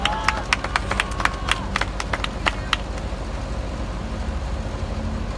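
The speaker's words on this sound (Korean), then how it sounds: "박수를 크게." Crowd clapping at a street protest rally for the Statue of Peace sit-in, sharp scattered claps early that thin out into a steady murmur of outdoor crowd and background noise.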